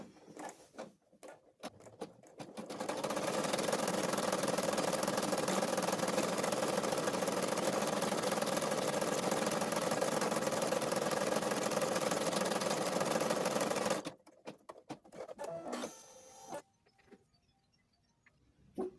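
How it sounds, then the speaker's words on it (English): An embroidery machine stitches a doll joint reinforcement into cloth, giving a steady, fast mechanical whir and patter that runs unbroken for about eleven seconds and then stops, with brief handling noises before and after. "Then we're going to stitch out the doll joint reinforcement."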